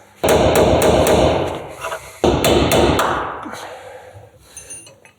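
A spot-welded section of Lada Moscow car body is hammered out, a run of loud, close metallic blows in quick bursts with ringing impacts, pausing briefly before another volley.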